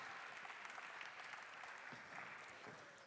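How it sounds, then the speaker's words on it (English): Audience applause at a football industry conference panel, a steady even round of clapping from a seated crowd that fades slightly toward the end. "So nice round of applause then."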